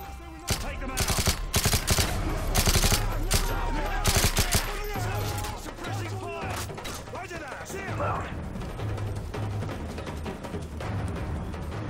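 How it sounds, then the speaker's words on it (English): Rapid bursts of automatic machine gun fire in Call of Duty: Modern Warfare 3 rattle loudly in long volleys, with heavy thuds and mechanical clatter between them. "He ran into the gunfire."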